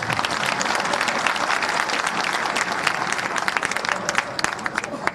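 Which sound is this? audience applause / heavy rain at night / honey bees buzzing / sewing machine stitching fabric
audience applause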